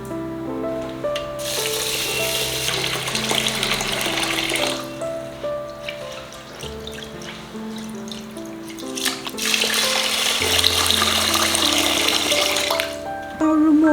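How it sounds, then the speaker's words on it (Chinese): Glutinous rice rinsed under a running tap, rushing water and swishing grains in two long loud bursts with a quieter stretch between, close up, over soft background music. "把糯米洗干净"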